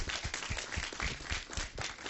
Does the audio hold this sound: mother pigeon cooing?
no